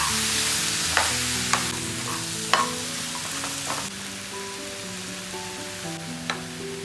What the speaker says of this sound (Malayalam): നല്ലതുപോലെ ഒന്ന് മിക്സ് ചെയ്ത് കൊടുക്കണം.